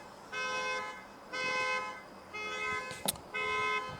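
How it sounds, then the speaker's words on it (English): A broken-down car's alarm sounds in four evenly spaced loud horn-like blasts, with a short sharp honk between the last two, heard from outdoors at moderate distance without talk. "Oh, sorry about the honking."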